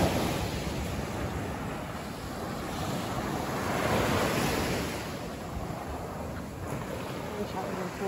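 Ocean surf washes onto a beach near the tip of a cape, a steady, loud rush of breaking waves that swells slightly midway.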